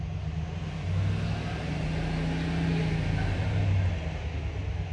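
Chevy Suburban engine with a freshly overhauled motor, revved under load during a misfire check: a loud, steady rumbling drone that rises and swells twice, with no talk.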